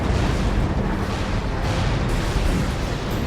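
Tank cannon fire and explosions in the video game Codename: Panzer, a dense, sustained, loud booming rumble with no clear gaps between blasts.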